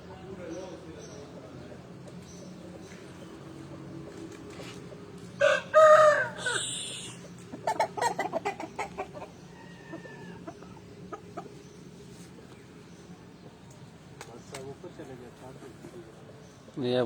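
Roosters crow and hens cluck in a short burst partway through, fairly close, over a quiet background with a voice speaking now and then.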